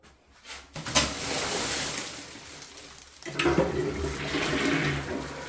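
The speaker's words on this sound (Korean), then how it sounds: "물 시원하게 잘 내려갑니다." A toilet flushes with a sharp click, then a loud rushing swirl of water that gurgles on for several seconds.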